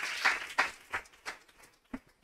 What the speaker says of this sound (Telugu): చప్పట్లు కొట్టండి ఒకసారి అందరు కూడా